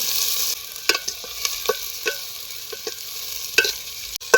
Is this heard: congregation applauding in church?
no